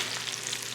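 Butter sizzling and frying in a pan at home, a steady broadband crackle and hiss that stays constant and close throughout, with no talking.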